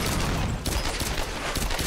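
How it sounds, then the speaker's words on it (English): Grenade launcher fire in the Tomb Raider video game comes as a dense, loud burst of booming blasts and crackling gunfire that fills the short stretch, briefly dipping before a second heavy impact. "Get him with the grenade launcher."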